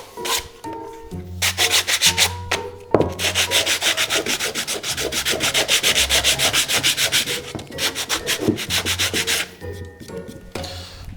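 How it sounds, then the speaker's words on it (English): Wooden treasure chest parts sanded by hand with sandpaper on a sanding block, close and loud, in repeated rhythmic back-and-forth strokes with brief pauses between bursts. "to do the sanding with the sanding block and the sandpaper"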